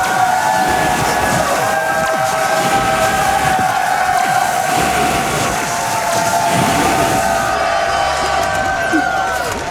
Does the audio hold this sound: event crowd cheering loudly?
yes